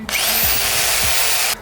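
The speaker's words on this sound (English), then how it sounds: "I was just seeing if the drill worked" A handheld power drill whirs loudly and steadily at close range for over a second, with a couple of low thumps as it binds in wood during a homemade wooden squat rack build, then cuts off abruptly.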